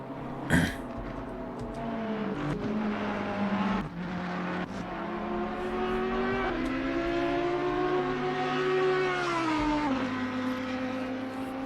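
GT3 race car engines in Assetto Corsa Competizione at Misano, a continuous loud engine drone that rises and falls through gear changes, with brief sharp bursts early on.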